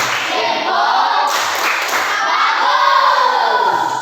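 A primary school class breaks into a loud group clapping cheer, children's voices and rhythmic claps blending into a dense, energetic roar close by in the classroom.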